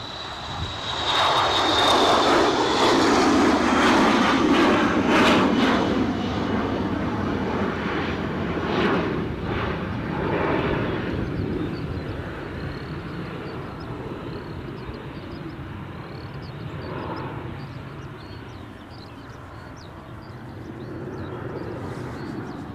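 A KLM airliner taxiing at Edinburgh Airport, its engine a loud, steady roar and whine up close that slowly eases and fades somewhat as the aircraft rolls on, with no voices.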